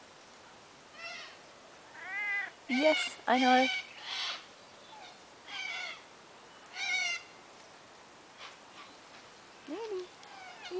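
A pet cat meows repeatedly for attention, short rising and falling calls spaced a second or two apart, fairly close, with a person talking quietly between them.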